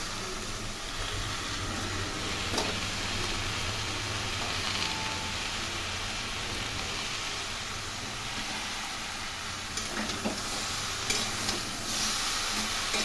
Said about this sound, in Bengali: এগুলো একটু ভাজা ভাজা করে নেব।